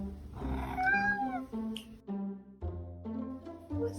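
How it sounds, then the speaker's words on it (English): A very large adopted house cat meows several times in close succession, each call a clear, tonal, rising-and-falling cry, loud and near with no talking. "Was that a meow?"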